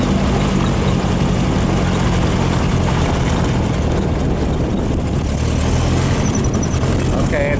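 A car engine fitted with Weber/Dellorto carburetors pulls under acceleration while driving, a loud continuous drone with road and wind noise through a cheap microphone, and a voice talks over it.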